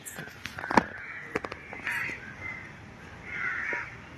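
Crows at Trivandrum Zoo give a handful of scattered caws, fairly distant and moderately faint, over soft outdoor background noise.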